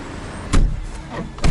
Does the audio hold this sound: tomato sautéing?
no